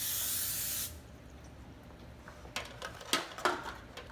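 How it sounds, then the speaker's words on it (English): Pam cooking spray spritzed onto a casserole pan: one loud, close hissing burst lasting just under a second, followed by a quiet pause and a few light metallic clinks of the pan. "spray the pan so it doesn't stick"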